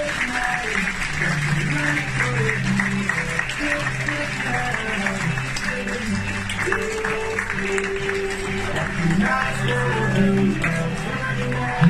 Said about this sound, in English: let's have a big round of applause for our Gabby Brigade